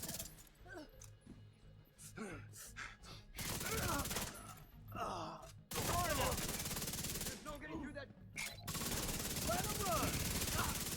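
Bursts of automatic gunfire ring out in The Division 2, clipped volleys building into sustained dense firing, with a voice speaking between shots.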